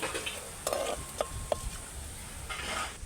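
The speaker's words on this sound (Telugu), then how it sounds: "ఒక స్పూను జీలకర్ర ఒక స్పూను ధనియాలు ఈ కొంచెం ఫ్రై అయ్యేదాకా వేయించుకొని తర్వాత ఎండుమిర్చి వేసుకున్నాం" Cumin seeds, coriander seeds and dried red chilies fry in a pan for a Telugu chutney with gourd greens, giving a soft steady sizzle with a few sharp clinks of a spoon stirring, close and without talk.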